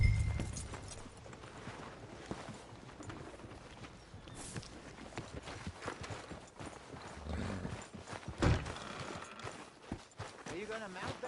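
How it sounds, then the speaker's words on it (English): Horse hooves clip-clop in Red Dead Redemption 2, a steady walking rhythm over rumbling outdoor ambience with a brief louder thump near the end. "Are you gonna mount that new horse of yours or not?"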